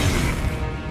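A Confringo spell blast in the video game Hogwarts Legacy goes off as a dense, loud, crashing explosion that fills the whole second and fades slightly toward the end.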